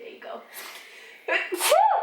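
A small child sneezes once, a sharp, close burst near the end, with an adult voice talking just before.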